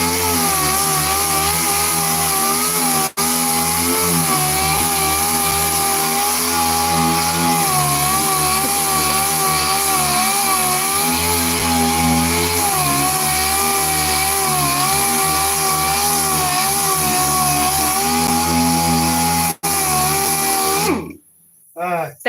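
A power sander drones loudly and steadily for a long stretch on the body of a yellow Dodge car, its pitch wavering slightly as it works, then cuts off abruptly near the end.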